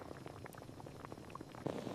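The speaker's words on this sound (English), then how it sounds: "I boil some water" A pot of water boiling on a kitchen stove, with a steady low bubbling and scattered small pops that continue evenly throughout and get slightly fuller near the end, with no voices over it.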